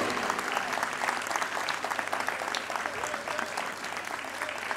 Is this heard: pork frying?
no